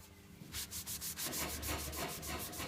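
Cloth rubbing Evercoat 440 Express filler paste into a repair surface, heard as fast rhythmic back-and-forth rubbing strokes, close and steady, with no talk.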